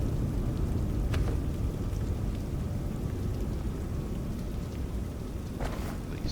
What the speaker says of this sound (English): As you can hear, it's currently raining